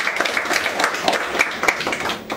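Applause from a seated audience at a coalition meeting, a short, moderately loud patter of clapping hands that stays even and fairly close throughout.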